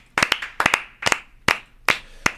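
A few people clapping slowly at a Mexican flag-honors show, in widely spaced doubled claps that come in groups about every half second, sharp and fairly close with nothing else in between.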